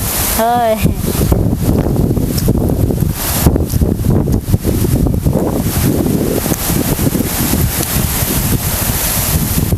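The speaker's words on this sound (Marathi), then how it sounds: "मस्त असं वारं सुटलं का नाही सुसाट्याचं वारं आहे" Strong wind roars steadily into the microphone, a loud broadband rush throughout, with a voice speaking over it.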